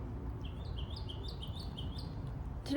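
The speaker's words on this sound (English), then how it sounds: "we're listening to a very musical bird" A songbird sings a repeated series of bright, rising whistled notes at a steady rhythm, moderately distant over a low background hum.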